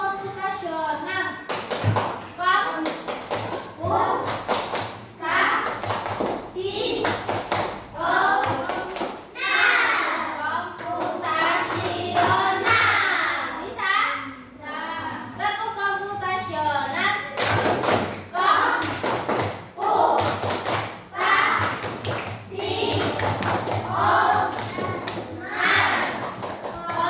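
Classroom children perform a rhythmic clapping chant, a steady pattern of hand claps and thumps mixed with loud sung and shouted young voices throughout, close and energetic.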